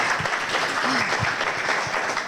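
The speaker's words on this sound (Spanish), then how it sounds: "para quien les pido un especial aplauso" An audience applauds after being invited to give a special round of applause for a specialist at an education event, a steady wash of clapping filling the room for a couple of seconds.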